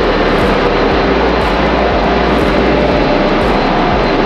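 A 15,000 kW main engine on a gas tanker roars loud and steady in the engine room, a dense broadband drone with a faint pulsing beat about once per second, with no voices.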